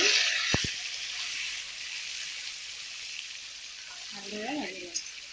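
Long-cut potatoes sizzle in hot oil with turmeric and salt in a home kitchen for a pigeon curry, a steady loud crackling hiss with a couple of sharp utensil clinks early on and a brief spoken voice near the end.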